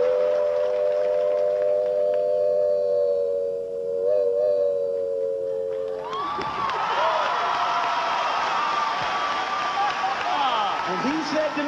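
A voice imitates a train on a game-show stage, starting with a sustained whistle-like tone, then a burst of chugging, hissing noise with crowd cheering and applause from about six seconds on.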